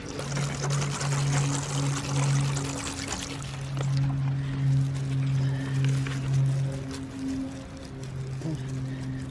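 Water pours and splashes steadily as soil is rinsed off dahlia tubers, a close, continuous running flow with a faint steady hum underneath.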